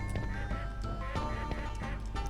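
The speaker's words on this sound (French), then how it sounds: "J'entends des canards, mais je sais pas où ils sont." Ducks quacking repeatedly in the video game Skies of Arcadia, a steady busy background with tonal music-like hum, moderately loud and continuous.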